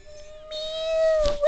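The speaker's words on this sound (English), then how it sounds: "Meow, what is it, Pinocchio-chan?" A single drawn-out cat meow, close and fairly loud, rising and holding before trailing off, with no talking.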